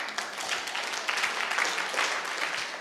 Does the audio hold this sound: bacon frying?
no